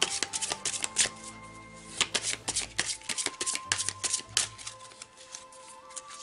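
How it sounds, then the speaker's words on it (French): Goddess oracle cards are shuffled by hand close up, a quick crisp riffling and flicking in uneven bursts, fairly quiet, with no talk. "je vais tirer une carte de la déesse"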